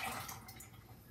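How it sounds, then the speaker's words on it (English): Three cups of water poured into a container while making homemade nut milk: a steady splashing, trickling pour, loudest at first and then settling to a softer, even flow. "go ahead and pour in 3 cups of water"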